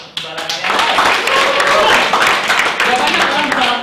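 An audience breaks into applause, a dense burst of clapping that starts abruptly and carries on steadily, loud and close, for a few seconds.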